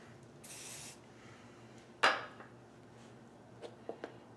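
A spray can spritzes a small segmented craft piece in one short hiss, with faint table knocks and light handling noises following.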